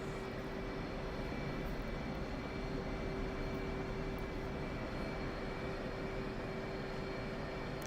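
The engine of an F/A-18 Hornet in the DCS flight simulator gives a constant droning whine with a steady tonal hum, even and unbroken throughout, at moderate level with no voices.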